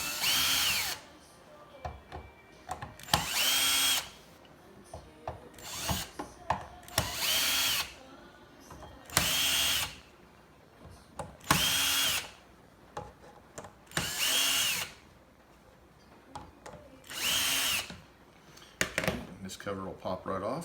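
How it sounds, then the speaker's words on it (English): Power drill backing out Phillips head screws from a Cannon Mag10 downrigger cover, seven or so short whirring bursts in a regular sequence, each a second or two long, with quiet gaps between. "take out the 7 Phillips head screws"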